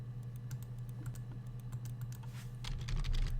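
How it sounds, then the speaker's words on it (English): Rapid typing on a computer keyboard, a steady stream of light clicks that grows busier and louder toward the end, with a constant low hum underneath. "I can still type on this one."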